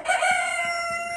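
A Phoenix rooster crows once in a single drawn-out, strained call, fairly close and clear, with faint background noise.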